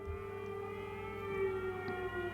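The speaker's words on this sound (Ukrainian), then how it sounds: "Це була повітряна тривога" An air raid siren sounds at a steady distant wail in wartime Ukraine, faint and continuous beneath low background hum, with no voices.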